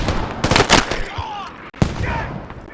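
A short burst of gunfire in the military shooter Squad as a player is gunned down: a few sharp close shots followed by a single louder crack, with faint talk beneath.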